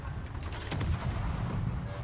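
Torpedo strike on the cruiser Helena in the naval battle game World of Warships, a muffled booming impact with a rumbling low-end tail, steady and moderately distant.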